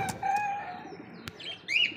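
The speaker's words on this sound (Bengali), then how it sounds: "দেখেন এটা হচ্ছে নর কবুতর আর এটা হচ্ছে মাদি কবুতর" Pigeons kept as a breeding pair, male and female, among birds for sale, with soft chirps and a brief flutter of wings close by and a short higher call near the end.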